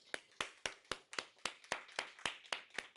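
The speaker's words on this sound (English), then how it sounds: "I want to give a hand of applause for that" A small audience at a real estate sales talk claps in a sparse, fairly regular rhythm, about a dozen distinct claps close by and fairly quiet.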